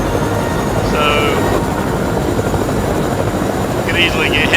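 Helicopter flying in the Fortnite battle royale game, a loud continuous rotor drone and engine rumble throughout, with brief higher electronic game tones over it.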